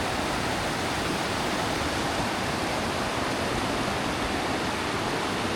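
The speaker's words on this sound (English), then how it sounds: "this is where the Red River meets the Rio Grande" The Red River and the Rio Grande meet in a canyon, and their water gives a steady, broad rushing roar that never lets up.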